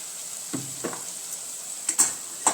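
A spoon stirs bitter gourd peel curry mixed with crushed gathiya and peanuts in a pan, giving soft scraping strokes over a faint, steady sizzle, with a few brief clinks near the end.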